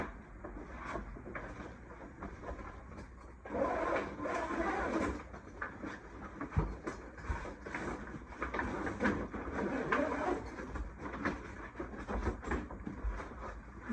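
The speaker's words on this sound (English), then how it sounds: "Just gonna zip up the bottoms now." A zipper being drawn closed along the bottom of a grow tent, heard as close, fairly quiet rasping pulls that grow denser and continue for several seconds, with no talk.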